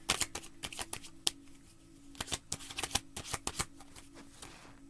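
Tarot cards being shuffled by hand close up, a rapid run of crisp riffling flicks in irregular bursts with brief pauses between them, with no talking.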